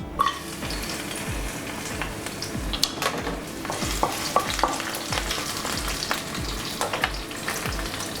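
Garlic cloves frying in hot oil in a kadai, a steady close sizzle with scattered crackles and pops and occasional stirring clinks, no voices.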